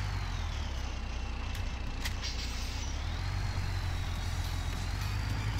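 A truck in Farming Simulator 17 rolls along steadily with a constant low engine drone and faint air-brake hiss, no talking over it.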